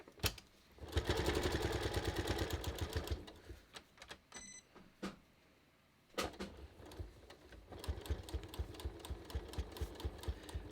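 A sewing machine stitches a red fabric heart banner, running in quick rhythmic bursts with a steady needle patter. It pauses briefly, then starts again at a slower, more broken pace.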